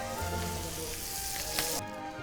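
Fish frying skin-side down in a pan, a steady loud sizzle close by that continues without a break, with no voices.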